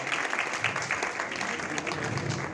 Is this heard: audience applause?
yes